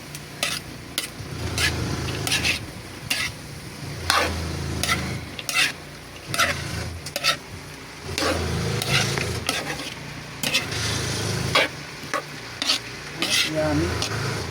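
Spatula stirring bitter gourd sautéed with egg in a frying pan, repeated scraping and clinking strokes in an uneven rhythm over a continuous oil sizzle, close and fairly loud with no talking.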